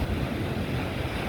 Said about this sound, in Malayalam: തിരമാലകൾ അടിക്കുന്ന ശബ്ദം